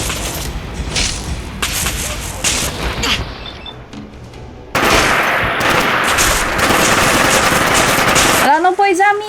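Rapid, dense gunfire from the Fallout 4 video game, with bursts of machine-gun fire crackling loudly and almost continuously, briefly thinning midway, then ending in a short whooshing electronic sweep.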